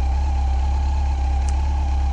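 A 2005 Yamaha FJR1300 motorcycle with 56,000 miles runs steadily at idle, a close, continuous low engine hum with an even pulse and no talk throughout.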